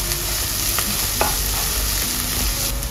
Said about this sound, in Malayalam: നല്ലോണം വഴറ്റി കൊടുക്കുക ചെറിയുള്ളിയുടെ കളർ ഒക്കെ മാറി നല്ലൊരു ലൈറ്റ് ബ്രൗൺ കളർ ആവുന്നതുവരെ വഴറ്റി കൊടുക്കണം